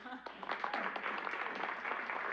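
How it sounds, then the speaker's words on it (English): A burst of crowd applause in the video game Immortality, many hands clapping densely and steadily for a couple of seconds at moderate volume. "Everyone, a big round of applause to our star"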